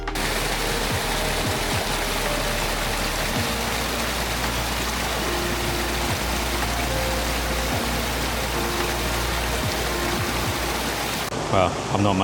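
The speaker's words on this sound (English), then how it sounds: "I'm now just stood on a bridge crossing the river here, looking upstream." Broad, steady rush of a river stream flowing beneath a bridge at Wyming Brook in the Peak District, a wooded valley of many waterfalls, continuous and close with no pauses.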